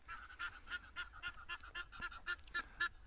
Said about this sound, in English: That noise being the Egyptian geese chasing each other around.